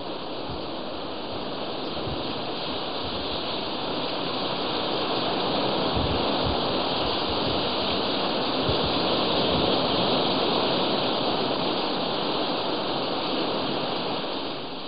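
Sea waves at Ottinene Beach in Udupi, Karnataka, a continuous broad roar of surf that swells gently and stays unbroken for the whole stretch, with no voices.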